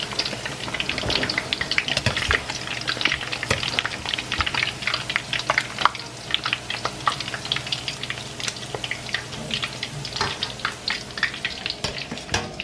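Lao-style meatballs deep-fry in hot oil, giving a loud, close, continuous crackle and sizzle full of sharp popping bursts that carries on steadily without any talking.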